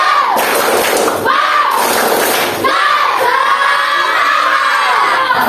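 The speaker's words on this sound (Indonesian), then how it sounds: "Kita akan melakukan tepuk semangat ice breaking terlebih dahulu." A classroom of students does an ice-breaking spirit clap, with loud bursts of clapping and thumping in a repeating pattern, each bursting out with excited group shouting.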